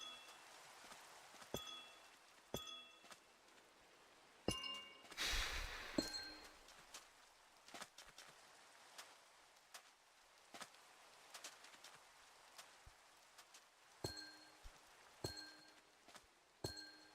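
Rain falls in a Minecraft hardcore world, a soft steady patter with scattered faint clinks and ticks repeating throughout, plus a brief louder burst partway through.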